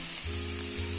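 Sweet potato and potato pieces sauté with ground peanuts in a hot pan, a steady close sizzle and hiss of frying throughout.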